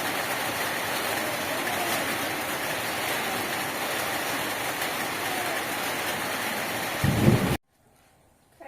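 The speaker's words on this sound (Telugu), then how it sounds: "వర్షం అయితే మంచిగా వస్తుంది" A dense, steady roar of heavy rain fills the air for several seconds, then cuts off abruptly into near silence.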